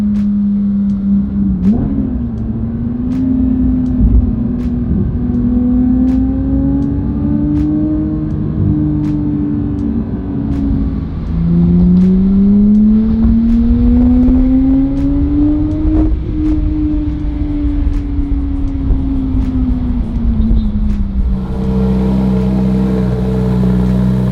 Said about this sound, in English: You can hear the exhaust much louder now.